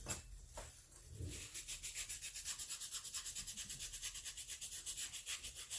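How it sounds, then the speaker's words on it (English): Worn parts of a Stihl 026 chainsaw in rough condition are sanded by hand, giving a close, rhythmic back-and-forth scraping that settles into a steady regular stroke. "Get in there and sand on it."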